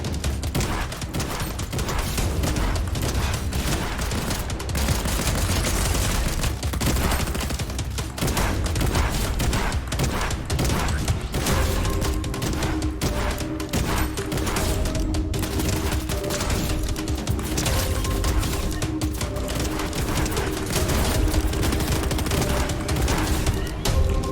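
A combat shotgun fires repeatedly in the Fortnite video game, loud continuous shots and booms rolling through the whole stretch with a game soundtrack underneath.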